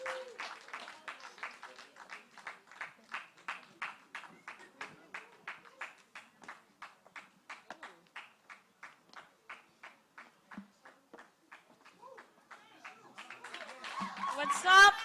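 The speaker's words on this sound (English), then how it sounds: "Please, can we keep clapping?" A poetry festival audience claps in a steady, even rhythm that keeps going at a moderate distance and grows louder and more scattered at the end, with a voice and cheering rising over it.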